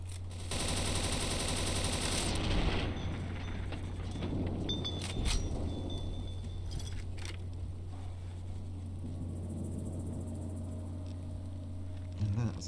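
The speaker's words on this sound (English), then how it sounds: "Let's swap out for the submachine gun" Submachine gun fire in Fallout: New Vegas, rapid bursts of automatic shots over a steady low game hum during the first few seconds, with scattered mechanical clicks and clatter afterward.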